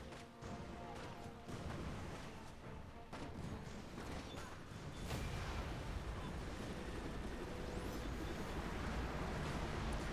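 Art of War: Red Tides airdrop and bombing run attack: dense, rumbling explosions and gunfire build into a continuous heavy barrage that grows louder toward the end.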